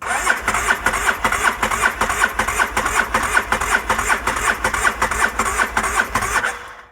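ATV engine cranking over on the starter during a cylinder compression test, a rapid rhythmic chugging pulse for about six seconds, loud and close, cutting off abruptly at the end.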